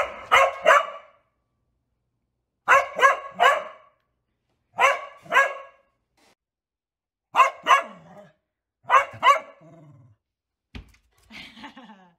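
A dog barks in a series of sharp double and triple barks separated by silent pauses, close and loud, ending with a few softer whining yips.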